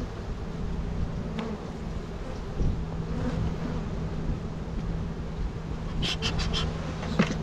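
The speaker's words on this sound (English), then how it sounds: "Good chunk of bees up there." Honey bees drone steadily around an open hive box in an outdoor yard, a continuous close buzz with a few sharper passes of individual bees near the end.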